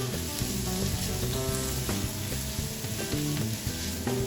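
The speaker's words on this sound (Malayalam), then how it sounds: "ഇത് നമുക്ക് നന്നായിട്ട് വഴറ്റിയെടുക്കാം." Onions, green chillies and ginger-garlic sauté in a pan for a beef samosa filling, making a continuous, even sizzle with a bright hiss throughout.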